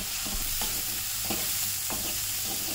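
Ingredients sauté in a pan for Tamil-style drumstick-leaf cooking: a steady soft sizzle with occasional scraping stirs of a spoon, close and unaccompanied by speech.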